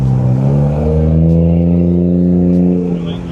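At a JDM car meet, a car engine drones loud and close, rising into a sustained rev with a rich low harmonic growl that holds for several seconds before easing off.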